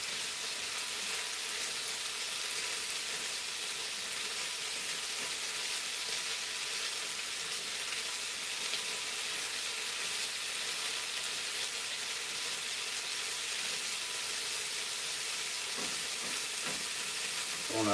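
Onions fry in a pan with a dense, steady sizzle and crackle, stirred now and then with a few scraping knocks near the end, close and continuous, no voices.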